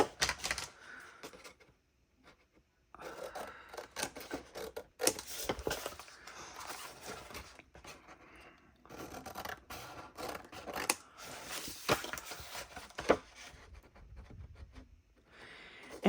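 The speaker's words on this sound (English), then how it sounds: "we are going to go ahead and cut these" Paper journal tags are cut with a tag die set, giving close, scratchy rasping and scraping bursts broken by a few brief pauses, with no speech.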